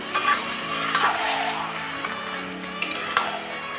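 Marinated lote fish with raw onion paste goes into hot spiced oil in a pan, frying with a steady broadband sizzle and a few sharp stirring clanks near the start and end, fairly close and without talk.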